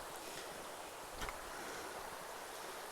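A flowing stream at an Appalachian Trail crossing in Maine, heard as a steady broadband rush of water that stays constant and fairly loud, with a brief low bump partway through and no voices.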